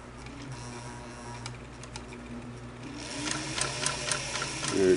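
Motor of a vintage Singer sewing machine whirring steadily up close, a continuous mechanical hum that grows louder and busier toward the end with rapid ticking.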